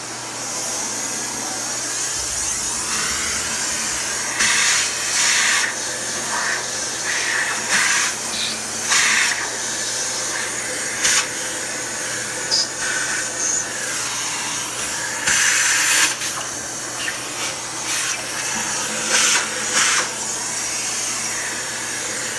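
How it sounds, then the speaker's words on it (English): A vacuum cleaner runs steadily while cleaning out the blower chambers of a Regency i2400 stove, giving a continuous loud hiss and whine that surges repeatedly as the nozzle moves. "then we'll be able to go ahead and put the blower back in once I've vacuumed it all"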